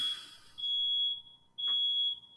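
A smoke alarm set off by cooking in a home kitchen gives two loud, steady high-pitched beeps, each lasting about half a second, separated by a short gap.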